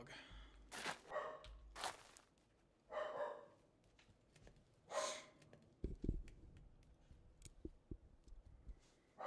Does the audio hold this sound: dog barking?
yes